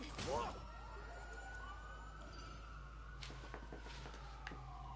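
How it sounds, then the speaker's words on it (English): Police sirens wail in the background, faint rising and falling tones under a steady low hum, with a few soft ticks scattered through. "And we hear police sirens in the background."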